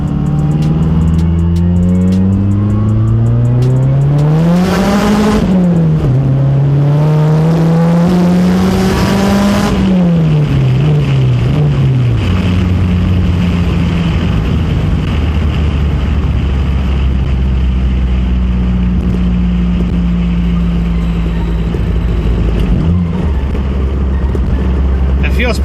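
A Mazdaspeed 3 fitted with a BNR S5 turbo, on a base map for its first drive after winter storage, pulls hard in second gear. The close, loud engine drone climbs in pitch twice, then settles into a steady cruise hum.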